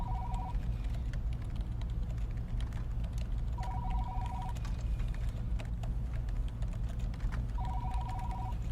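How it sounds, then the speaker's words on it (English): A telephone rings in an audio drama, three short trilling rings spaced a few seconds apart over a low steady background hum, fairly faint and with no speech. "She ran to the toilets and rang Maya"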